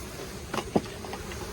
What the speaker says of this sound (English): And all the excess bees should fly from there to in here.